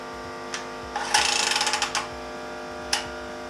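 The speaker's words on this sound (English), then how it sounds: "I just used the M12 cutter" A Milwaukee M12 cutter trims a pipe at a Navien NCB 240 combi boiler, a quiet ratcheting whir of a second or so with a few faint clicks before and after.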